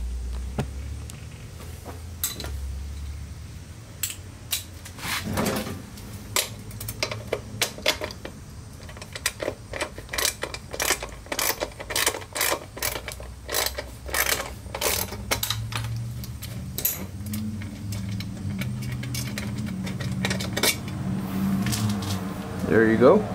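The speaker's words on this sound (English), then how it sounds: "So we're going to go ahead and take off this little bolt right here." Close ratchet clicks loosening a small bolt on an 1985 Yamaha Virago XV700 motorcycle, in rapid irregular bursts, with someone talking over parts of the work.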